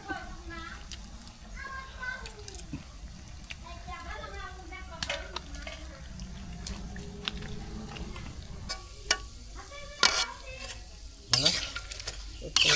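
Pitha sizzles steadily in a pan in a village kitchen while people, including a child, talk over it, with occasional sharper clinks and scrapes.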